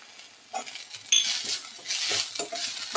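Black pepper and drumstick leaves frying in a pan for a Kannada tambuli, a soft sizzle with spatula scrapes and light clinks against the pan, close and without talk.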